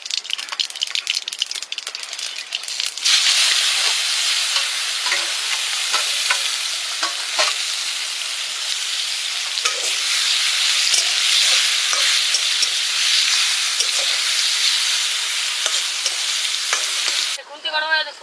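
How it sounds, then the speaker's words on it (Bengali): Mustard hitting a hot pan at an outdoor picnic cook-up sets off a loud, steady sizzle of frying that runs unbroken, with scattered light scrapes of stirring and a short clatter near the end. "তো বন্ধু এবার আমরা সর্ষে দিয়ে দিচ্ছি"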